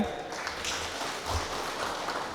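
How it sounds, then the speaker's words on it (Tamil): Audience at a talk on astrology gives a round of applause to welcome a guest speaker, steady moderate clapping throughout the brief stretch. "ஒரு கைத்தட்டல் கொடுங்க"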